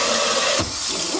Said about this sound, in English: the way that I fill the water is with the hose, and I make a mess all over myself